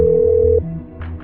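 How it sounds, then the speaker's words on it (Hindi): A steady electronic phone tone cuts off abruptly, followed by a low hum and a couple of faint soft clicks. "आखिरकार उन्होंने अपने दोस्त शमीम को फोन किया"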